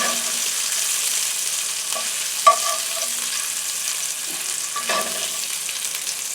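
Shrimp frying in olive oil in a pan, a steady loud sizzle with a few soft clinks and stirring knocks and no speech.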